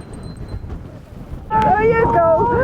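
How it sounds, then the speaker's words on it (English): Strong wind buffeting a microphone on a Northern Ireland coast, rough and gusty, rising sharply halfway through as a voice cries out over the roar. "Bloody hell, it's windy."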